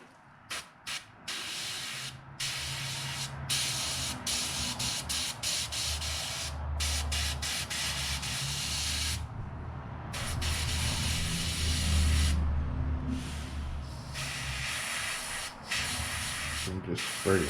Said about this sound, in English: And just spray right along the front.